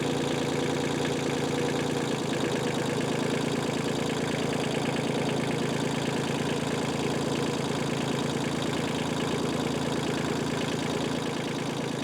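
A Kubota L245H tractor diesel engine runs steadily while driving in second gear, a close, constant low knocking drone with no voices.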